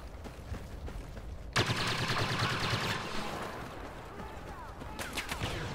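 Blaster gunfire in a Star Wars video game crackles in a sudden dense burst of rapid shots that run on for several seconds, then return in another volley near the end.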